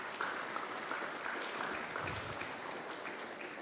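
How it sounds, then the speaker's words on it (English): Sustained applause from a crowd at a city's State of the City civic event, steady dense clapping filling the room without a break. "So give yourselves a round of applause."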